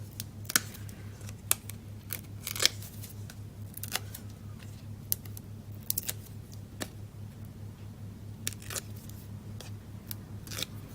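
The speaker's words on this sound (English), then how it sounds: "I'll just cut a little bit off." Scissors snip through card stock in a string of crisp, short, separate cuts at irregular intervals, close and fairly quiet against a low steady background hum, with no talking.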